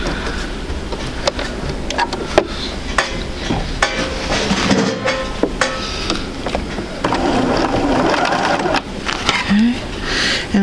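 A sewing machine stitches across a quilt square at a quarter-inch seam, with intermittent mechanical whirring and clicks mixed with handling noise and a person talking.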